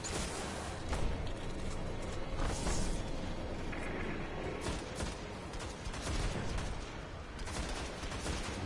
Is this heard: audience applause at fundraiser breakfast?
no